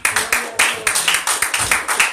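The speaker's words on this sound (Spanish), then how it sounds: "¿Cuántos aplausos a Cristo Jesús?" Church congregation clapping in rhythmic unison, a steady run of sharp, even claps filling the room, loud and close with some voices mixed in.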